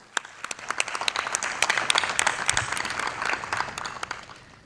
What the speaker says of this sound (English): So can we please start with a good round of applause?